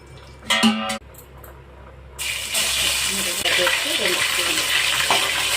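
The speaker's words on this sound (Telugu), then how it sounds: "ఇందులోకి కొంచెం ఆయిల్ వేస్తాం, నూనె పోసుకొని" Cooking oil streams into a pan on a lit stove, a steady rushing hiss that begins after a brief burst of talk and grows slightly louder as it continues.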